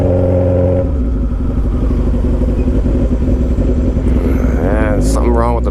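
A stretched 2007 Suzuki Hayabusa motorcycle on a test ride, its engine droning steadily and loudly throughout with harmonic pitch shifts toward the end, while a rider talks over it.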